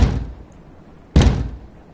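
Two heavy slams hit a door with a metal frame, one at the start and one a second later, each loud and close with a booming thud that fades quickly.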